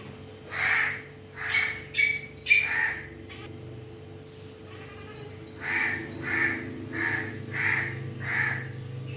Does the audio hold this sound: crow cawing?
yes